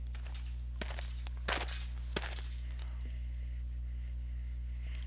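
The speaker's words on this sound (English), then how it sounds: "I hear footsteps crunching in the grass behind me and turn around." Footsteps crunching through grass in the visual novel game Katawa Shoujo: a few soft, scattered steps, the clearest near the middle, over a steady low hum with no talking.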